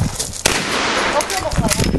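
A sharp rifle crack sounds at a shooting range, followed by a busy, echoing backdrop with people talking.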